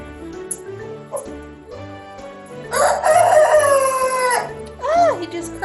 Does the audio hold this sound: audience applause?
no